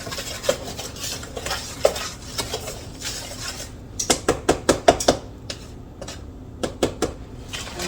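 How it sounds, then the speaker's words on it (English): A whisk scrapes and clinks against a bowl while mixing dry ingredients with baking powder for butter biscuits, soft swishing first, then a quick series of sharp taps and knocks, close and fairly quiet. "Give this a whisk up."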